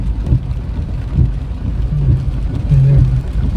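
Heavy rain falling during a flood, a dense continuous wash with low rumbling surges and a few brief tonal sounds mixed in.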